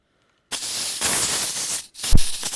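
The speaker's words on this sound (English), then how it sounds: "I put in here with some water just so I can spray this" An Eastwood Concours Pro paint spray gun loaded with water hisses out a steady broadband mist for about a second and a half, then a short pause and a second burst with a sputtering thump.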